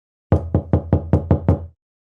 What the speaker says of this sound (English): They knock again.